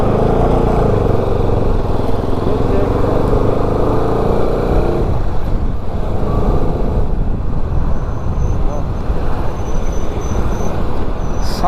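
A motorcycle rides on the road during a long trip from Madurai to Ladakh, giving a loud, continuous engine drone mixed with heavy wind rush, and the tone shifts partway through as the ride goes on.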